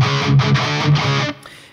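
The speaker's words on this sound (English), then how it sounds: "because a normal power chord it would only sound like this" A distorted electric guitar chugs a plain power chord in short repeated palm-muted bursts, loud and close with no voices, then fades out as the notes ring down.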